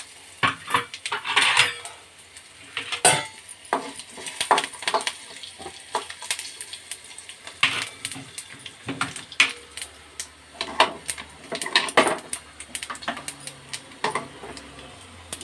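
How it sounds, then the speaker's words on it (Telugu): A spoon scrapes and clinks against a metal pot while fried tempering spices are mixed into curd rice (dadhojanam), making irregular bursts of sharp knocks and clatter with soft stirring between them, close and without speech. "ఈ ఫ్రై అయిపోయిన పోపు దినుసులు మొత్తం కూడా దద్దోజనంలో వేసుకొని కలుపుకోవడమేనండి."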